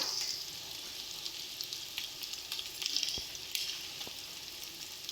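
Pumpkin pieces frying in a pan with ginger paste, green chili paste and spices, a steady faint sizzle with light crackles and occasional stirring scrapes, close and without talk.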